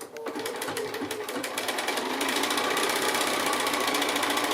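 A sewing machine stitches fabric for quilting with a quarter-inch seam, close and steady, speeding up into a fast continuous whir after a slower start.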